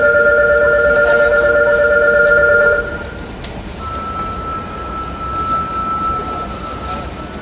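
A subway train pulls away from a platform at Tenjin Station, Fukuoka City Subway, with a loud, steady rumble. Sustained electric whine tones cut off, then a single high tone drones on.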